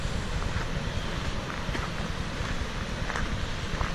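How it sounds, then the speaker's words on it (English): High Force waterfall in misty conditions, a steady broadband roar of rushing water pouring over the falls, continuous and fairly loud with no pauses. "What a fabulous looking waterfall that is."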